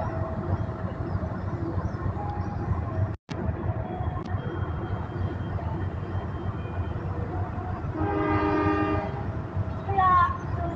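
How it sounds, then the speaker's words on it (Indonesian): At Purwakarta station, a train rumbles steadily along the platform, then its horn sounds loud and close near the end, with a brief second blast following. "Dari jalur 2 kereta api Harina untuk tujuan akhir stasiun"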